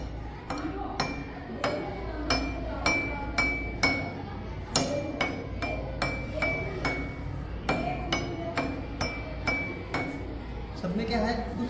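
Glass tumblers struck one after another with a teaspoon to produce different tones, giving a steady series of bright, ringing clinks, some higher and some lower, with a person talking throughout.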